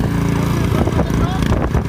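A Honda HS 720 snowblower forces its way through drifted, hard, wet snow, its engine droning steadily and close by for the whole short stretch.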